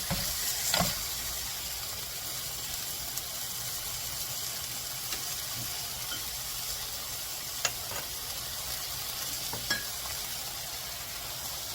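Vegetables stir-frying for pepper japchae in a pan, a steady soft sizzle running throughout with a few sharp clicks of utensils against the pan, no voices.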